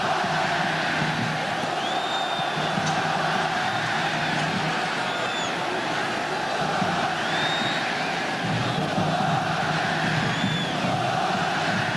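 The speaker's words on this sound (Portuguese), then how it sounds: "E a torcida do Vasco continua gritando" Vasco supporters in a packed stadium at a 1998 Brazilian championship match against Santos, a massed crowd roaring and chanting olé in long sustained swells, loud and continuous with whistles cutting through now and then.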